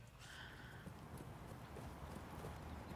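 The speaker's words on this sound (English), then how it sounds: "He can't control this horse." Horse hooves clip-clop in a TV drama scene, a steady run of fairly soft hoofbeats with a brief neigh near the start, set against background sound.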